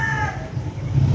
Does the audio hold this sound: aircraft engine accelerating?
no